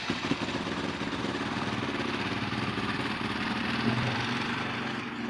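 A badly abused motorcycle engine running after a cold start: a steady, close idle with an even mechanical chug and no big revs, continuous from start to finish.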